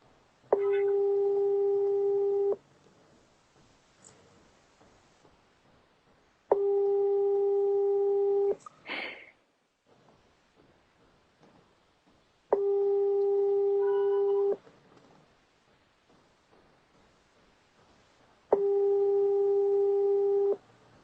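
An outgoing phone call ringing while waiting for pickup, a steady tone repeating four times in roughly two-second bursts separated by about four seconds of quiet, with faint background noise between rings.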